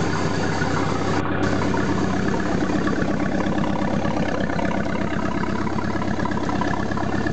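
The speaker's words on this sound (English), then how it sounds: "But it's sounding pretty dang good. It's idling right now." A rebuilt Mercruiser 3.7L marine engine idles on an engine stand, a loud, steady, close rumble with an even rapid firing pulse and no one talking.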